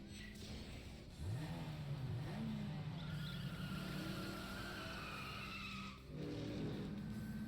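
Cars race in Yakuza 5 Remastered with a steady engine drone and long, loud tire squeals from skidding that rise and bend in pitch, nearly continuous for several seconds.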